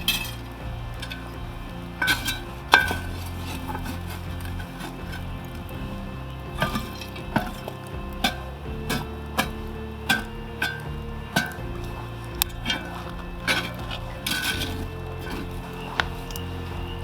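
Hot coals go onto a cast-iron camp oven lid with repeated metallic clinks and taps at an irregular pace, some sharp and close, over a low crackling outdoor background.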